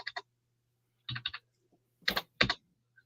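Bursts of typing on a computer keyboard, clusters of quick clicks with short pauses between them, close and fairly clear over a low steady hum, with no talking.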